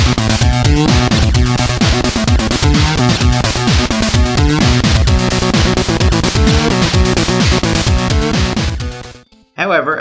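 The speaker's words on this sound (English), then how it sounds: "the frickin' Pictionary game had a title theme that sounds like this" Title theme music from the NES Pictionary game plays loud and dense with busy chiptune melody and rapid bass runs throughout, cutting off abruptly near the end.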